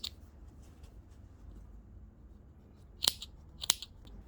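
Scissors cutting fleece fabric near an overlock seam: faint snips at first, then two distinct crisp, louder snips close together near the end, with quiet between.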